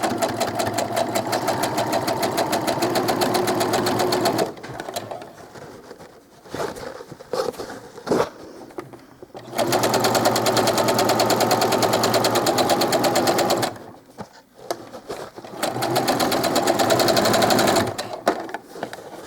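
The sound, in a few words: sewing machine stitching doll clothes with a twin needle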